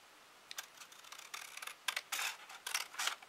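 Scissors cutting paper while making a small gift bag, a series of close, faint crisp snips and rustles growing denser and louder toward the end, with no talking.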